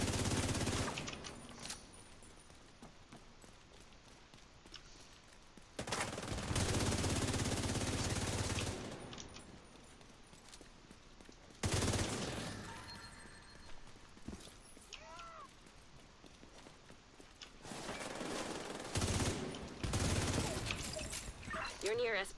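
Gunfire in The Division 2, several bursts of rapid rifle shots separated by quieter stretches, moderately loud within a busy game mix with someone speaking at times.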